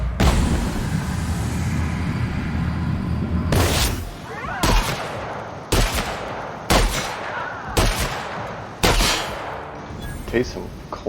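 Rifle shots ring out in a video game, five or six sharp, loud reports spaced roughly a second apart after a stretch of low ambient rumble, each with a short echoing tail.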